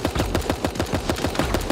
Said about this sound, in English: people off to our right shooting